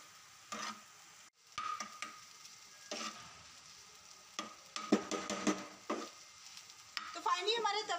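Tawa keema, minced meat cooking on a griddle over low heat, sizzles softly while a spatula scrapes and stirs it in irregular bursts, close by and with no talking.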